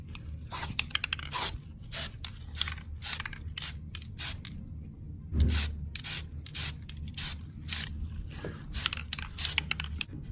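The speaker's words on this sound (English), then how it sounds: "then spray paint it again" Primer coat sprayed from a can onto a custom Funko Pop figure: a series of short, hissing spray bursts in an uneven rhythm, close by, with faint mechanical clicks and no talking.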